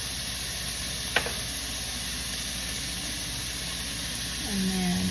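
Bacon frying in a pan for Southern-style cabbage gives a steady, even sizzle and hiss throughout, with one brief click early on and a low hum rising near the end.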